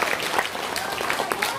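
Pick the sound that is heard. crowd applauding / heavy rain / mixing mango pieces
crowd applauding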